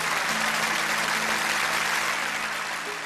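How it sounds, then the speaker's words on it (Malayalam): Congregation applause inside a church: a steady, full wash of clapping from many hands that holds at an even level from start to finish, with no talk over it. "അപ്പൊ ആ മാതാപിതാക്കൾക്ക് നല്ലൊരു കയ്യടി കൊടുക്കണ്ടേ?"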